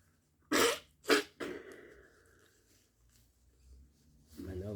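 A person sneezes indoors: two sharp, close bursts in quick succession, followed by a softer trailing vocal sound and a short stretch of quiet.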